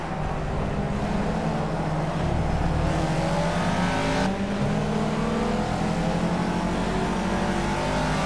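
A Caterham race car in the Project Cars racing game revs hard and climbs through its gears, the engine note rising and dropping at each shift, loud and continuous with no talk.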